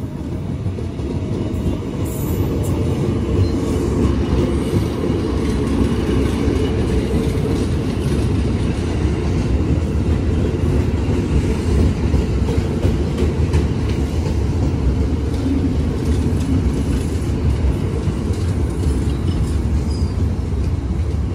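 A stainless steel Sembrani passenger train runs from Gambir toward Surabaya at night with a continuous rumble and faint clacking of wheels over rails, loud and close, lasting throughout.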